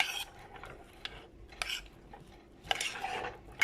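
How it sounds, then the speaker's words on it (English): A spoon scrapes and clinks in a bowl as raw onion and broccoli salad is stirred together, in short irregular bursts with quiet pauses between them and no talking. "stir it all together"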